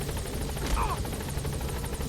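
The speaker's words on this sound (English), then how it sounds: "We're just gonna load up an entire platoon of Soviet soldiers in this helicopter." Helicopter in the video game Metal Gear Solid V, a steady low rotor rumble filling the whole stretch with a continuous airy whine, a brief louder burst partway through, and faint talk underneath.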